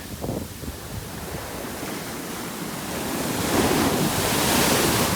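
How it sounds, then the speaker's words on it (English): Ocean waves roll and crash continuously on a chilly beach, with wind buffeting the microphone; the surf swells louder toward the end. "The waves are brutal."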